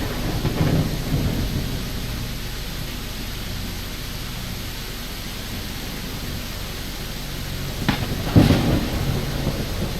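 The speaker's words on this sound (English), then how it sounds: "It's too early for a storm," A thunderstorm in the video game I Am Jesus Christ: steady heavy rain hisses throughout, and deep thunder rumbles roll in near the start and again close to the end.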